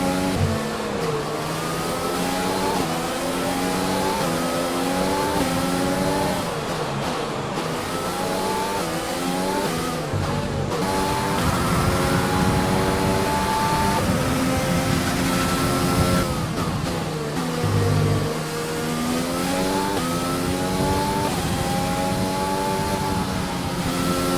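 A video-game F1 2020 race car at the Spanish Grand Prix screams through the gears, its loud, steady engine note climbing in pitch, dropping at each upshift, and climbing again, close up and continuous.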